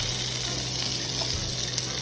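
Fresh cut green beans sizzle steadily in a hot skillet, a constant close hiss with no break across the short stretch.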